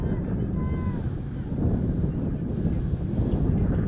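Strong wind buffets the microphone on a raised, hilltop flag football field at Sachem North in Lake Ronkonkoma during a girls' game, a loud continuous low rumble with no break.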